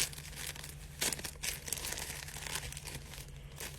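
Plastic charcoal package crinkles and tears as it is cut open, close and moderately loud, with irregular rustling bursts over a steady low hum.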